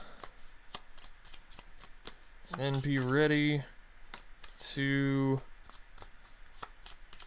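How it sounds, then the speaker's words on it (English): Rapid papery riffling of a deck of Magic: The Gathering cards being shuffled, repeated in quick bursts near the mic, with a person speaking briefly in between. "So give the land base a good shuffle"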